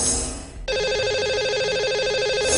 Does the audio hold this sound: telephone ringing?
yes